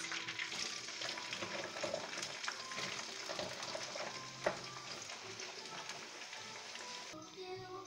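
Potatoes fry in a pan with a faint, steady sizzle and occasional stirring scrapes, soft and continuous, with a small clunk near the end.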